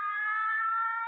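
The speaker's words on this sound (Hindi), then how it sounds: "वो पुलिस का सायरन" A steady electronic siren tone, faint and continuous, with a single held pitch and no rise or fall, sounding alone without voices.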